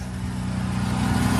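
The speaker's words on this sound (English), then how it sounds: "I don't like this car being loud." An engine-swapped Lexus IS250 car holds a loud, steady, rumbling engine note that swells slightly over a brief stretch, close by and without voices.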